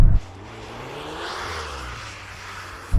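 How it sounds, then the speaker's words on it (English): Volkswagen Golf R engine held at full throttle in drift mode, a steady droning roar heard from inside the cabin that stays even and sustained throughout, with no talk. "Apparently, just floor the throttle and let it do its thing."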